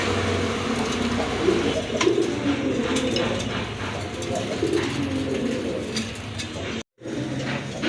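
Pigeons coo in soft, repeated throaty rolls, close by, over a steady background hum in a space where pigeons are kept for sale; a brief dropout near the end.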